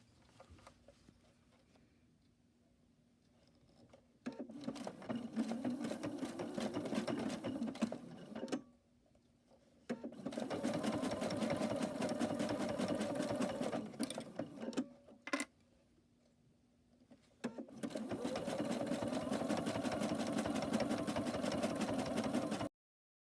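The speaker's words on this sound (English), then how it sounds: "put your presser foot back down to continue sewing the other side" A sewing machine stitching the binding on a lapghan runs in three long, steady bursts of close mechanical whirring, separated by short quiet pauses, with no voices over it.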